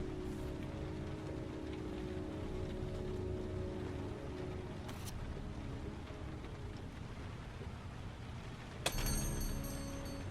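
Steady rain falls in the video game Heavy Rain, a constant dense hiss of drops pattering on surfaces throughout, with a brief sharper noise near the end.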